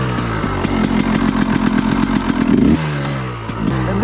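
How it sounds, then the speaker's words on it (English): A KTM 300XC-W two-stroke dirt bike, carbureted with a big bore kit, idles and warms up nearby, a loud rapid popping buzz with a rev blip that drops back to a lower idle. "we're gonna take a little while to warm it up because I do not want to end up with a seized motor here"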